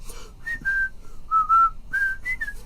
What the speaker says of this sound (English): Boy, even drunk I can whistle.